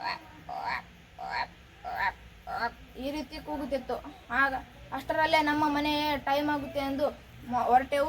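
Someone speaks, then imitates a frog in a rock crevice with a run of rhythmic, throaty croaks, close and fairly loud.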